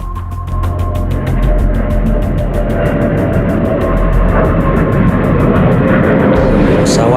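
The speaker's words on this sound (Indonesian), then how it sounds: "Pesawat Firefly masih berpatroli di angkasa." A Fairey Firefly propeller aircraft's engine drones loud and steady overhead on patrol above the sea off Situbondo, Indonesia, a rough continuous roar with no voices.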